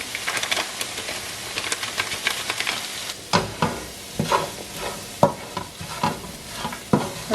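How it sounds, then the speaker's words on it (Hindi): Chicken sizzling in a pan as fajita spice mix is stirred through it, a steady frying hiss broken by repeated scraping spoon strokes, close and fairly loud, with no talking. "और ये मैंने जो फहीटा एक मिक्स पैकेट लिया है, ये मैं इसके अंदर डाल रही हूँ।"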